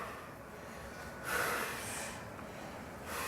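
Deep breathing during a core workout: a soft, airy breath swells for about a second, eases off, then a second breath starts near the end, quiet and close with no talking.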